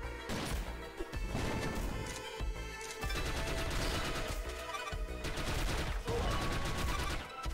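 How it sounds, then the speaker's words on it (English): Booming shotgun blasts in The Mummy Demastered, a retro side-scrolling action game, heavy shots spaced slowly over loud game music and effects. "Shotgun has a very slow rate of fire"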